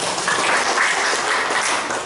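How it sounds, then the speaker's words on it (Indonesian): A crowd applauds in a steady wash of clapping for a couple of seconds, fairly loud and even throughout. "Tepuk tangan untuk kita."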